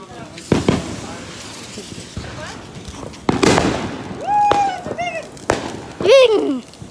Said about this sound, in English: Better watch the fireworks.